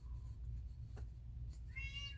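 A pet cat gives a few faint meows indoors, including one short call and a longer, rising meow near the end, under a low steady background hum.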